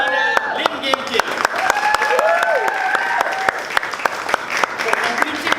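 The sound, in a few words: audience applause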